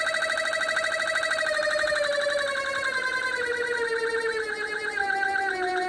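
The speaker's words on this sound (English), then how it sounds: "you can hear the loud, crazy noise, like something's seriously wrong with this motor." A faulty closed-loop stepper motor gives a loud, constant whine with a strong harmonic tone that warbles and slowly falls in pitch, with no pauses.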